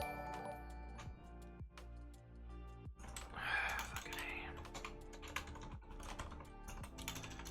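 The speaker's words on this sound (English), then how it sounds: "I'm typing import star." Typing on a computer keyboard during a live coding stream, with a steady run of soft, quick key clicks and occasional heavier keystrokes, close and clear against a quiet background.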